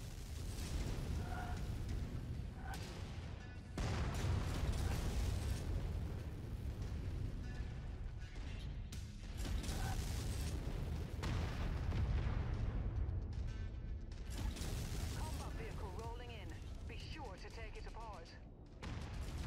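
Missiles launch from a mech in MechWarrior 5: Mercenaries during a siege, with repeated loud booming bursts and rumbling explosions amid steady combat noise and intermittent radio voices.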